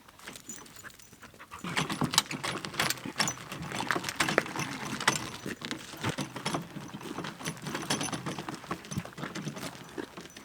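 Dogs panting rapidly and close by, quick rhythmic breaths with faint jingling and movement mixed in.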